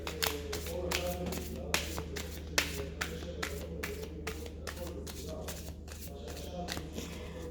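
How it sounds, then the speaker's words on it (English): Thick, glossy tarot cards riffle and slap together in quick repeated bursts, a close, crisp shuffling rhythm repeated over and over. "the cards are glossy and a little bit thicker, so it's a little bit harder to shuffle"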